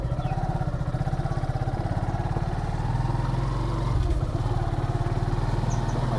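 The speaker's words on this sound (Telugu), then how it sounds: "ఇంకా నేను బైక్ తీసుకొని" A motorcycle ridden in gear on a morning trip out to a farm field, its engine a steady, close, rhythmic putter with rushing wind noise throughout.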